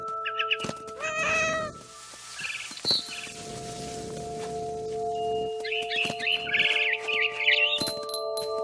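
A cat meows a few times amid sounds from the video game What Remains of Edith Finch, with sustained tones and chirpy bird calls in the background.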